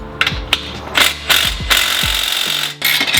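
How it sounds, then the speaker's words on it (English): An impact wrench hammers in short bursts to back out a stuck bolt while coilovers are fitted on a car. There are several quick rattling pulses close by, with brief pauses between them. "take your impact and slowly start to walk it out while unscrewing"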